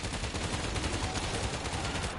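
A ground-mounted gun in a zombie shooter fires nonstop, a dense, loud, unbroken roar of automatic gunfire filling the whole moment.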